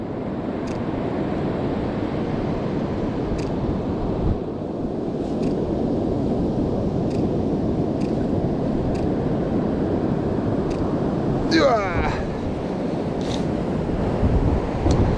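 Broad, steady rush of ocean waves washing and receding on an Icelandic beach, mixed with wind noise buffeting the microphone, continuous and fairly loud with no voices.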